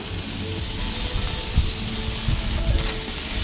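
Snapper fillet sizzling in a frying pan over medium heat gives a steady, loud, close sizzle, with a few brief thumps and spits as the fish is flipped.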